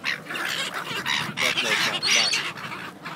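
Seagulls gathering around people outdoors give repeated loud squawking calls, several birds at once, with people talking and exclaiming over them throughout.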